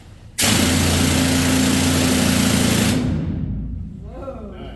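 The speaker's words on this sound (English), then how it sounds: "And then came the dental drill." An old mining rock drill known as the dental drill, demonstrated in a gold mine, blasts on abruptly at full volume as a harsh, loud pneumatic roar, holds steady for about three seconds, then winds down and fades.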